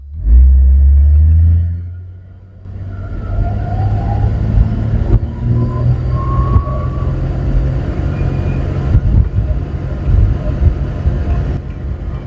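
A 1980s Ford ZL Fairlane with an EFI engine revving uphill, a loud low drone that swells then drops, followed by a rough, uneven sustained engine note that falters as it breaks down.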